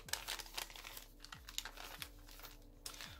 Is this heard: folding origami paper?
yes